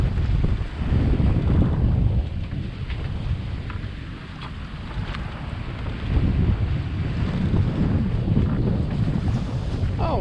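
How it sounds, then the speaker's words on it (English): Heavy surf from the Dominican Republic coast slamming into rock crevasses, heard from a boat as a loud, continuous rushing roar of water mixed with strong wind buffeting the microphone. "It's just the water slamming into those crevasses."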